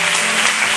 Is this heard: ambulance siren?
no